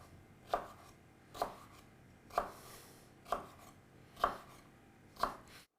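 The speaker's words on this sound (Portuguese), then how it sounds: "E agora vocês cortam o aspargo aqui em pedaços de mais ou menos 1 centímetro." A knife chopping asparagus into roughly one-centimetre pieces on a board, six evenly spaced, crisp thuds close by with quiet pauses between.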